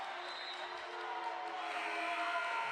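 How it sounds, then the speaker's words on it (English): A crowd at a boys varsity high school basketball game between South Elgin and Larkin, producing a sustained, steady roar of booing and crowd noise in the gym throughout. "Boos coming, raining down from the crowd."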